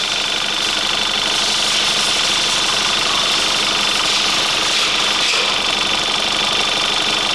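A rebuilt 2.0 TFSI four-cylinder engine in an Audi Q5 runs at a steady idle, with a constant even hum and a bright mechanical whir that continue without a break.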